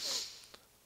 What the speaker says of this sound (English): Sorry about the little nose sniffle.